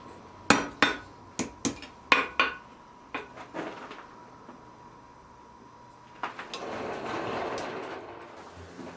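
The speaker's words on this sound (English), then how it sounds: "I'm just going to be using this punch to create a flared depression to seat the screw head" A blacksmith strikes a punch into hot steel for a wall hook, about ten sharp ringing hammer blows in a quick uneven rhythm, then a pause and a softer rushing, scraping noise toward the end.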